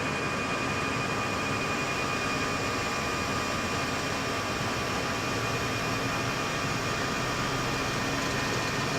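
The jet engines of an Airbus A319 at takeoff thrust on a departure from Copenhagen make a steady, loud broadband roar with a constant high whine, heard from inside the cockpit and unbroken throughout.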